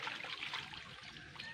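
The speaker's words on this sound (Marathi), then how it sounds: "पहिले हात पाण्याने ओले करा" Tap water trickles steadily over hands being wetted for handwashing at a school activity, a soft continuous splashing dribble heard alone and close.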